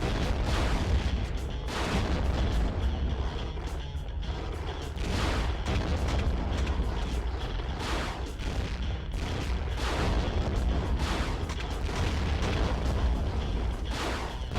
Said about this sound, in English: Let's use this missile launcher.